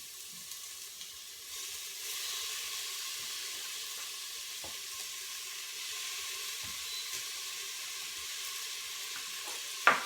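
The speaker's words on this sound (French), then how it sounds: "Donc, je vais ajouter ma viande." Meat sizzling steadily in a hot pan for rice vermicelli, a continuous close frying hiss with occasional stirring clicks and a sharp clatter at the very end.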